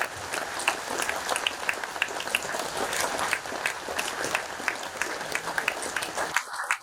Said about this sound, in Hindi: कम से कम हाथ उठा के ताली दो बच्चे